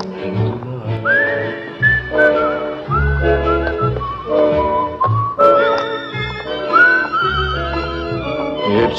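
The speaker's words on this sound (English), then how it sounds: "It's a whistling tune for walking in the night." A bright, melodic whistled tune carries over a steady musical backing with bass and chords, the notes gliding and sustained in phrases.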